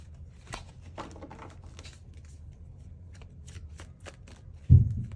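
A deck of tarot cards is shuffled close by with soft, papery riffles and flicks, ending in a dull thump.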